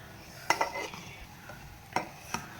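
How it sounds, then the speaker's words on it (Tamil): A spoon stirs freshly dum-cooked ghee rice in a pot, giving a few distinct close scrapes and clinks spaced apart over faint background noise, with no voice. "சோறு சூப்பராக தம் போட்டு இறக்கியாச்சு கிளறி வச்சிடலாம் சாப்பாட்டை"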